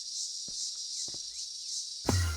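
A cicada buzzing right beside the microphone, a steady high-pitched drone that pulses gently throughout, broken by a few soft low knocks and a sharper thump near the end.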